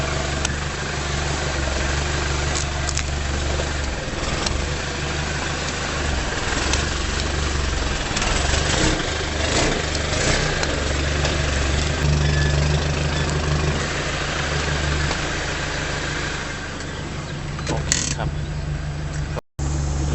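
A Toyota Vigo 4x4 pickup engine runs steadily on a hill, a continuous low rumble that stays level throughout, with some voice mixed in.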